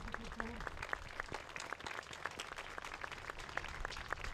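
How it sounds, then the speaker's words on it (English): Audience applause at a small graduation ceremony, scattered distinct hand claps from a modest crowd, fairly quiet, with a brief voice early on. "Can we give them another round of applause, please, both of them?"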